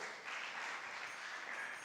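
A church congregation claps together in a continuous patter of many hands, moderately distant and fairly soft, holding steady for a couple of seconds with no voices over it.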